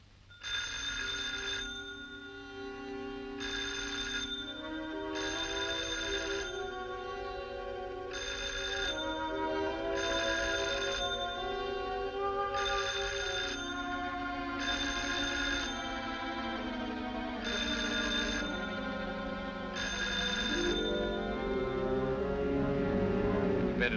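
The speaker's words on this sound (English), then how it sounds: "I can hear it ringing." An old-fashioned telephone bell rings in repeated bursts with short gaps, heard over a bed of dramatic orchestral film music in a 1944 Sherlock Holmes mystery, with no speech.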